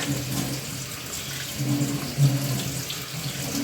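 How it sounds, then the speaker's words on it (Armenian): Something rinsed under a running kitchen tap, a steady splashing stream of water pouring into a sink, continuous and close, with a slight bump in the flow partway through and no talking. "այսպես լավ պահում եմ հոսող ջրի տակ"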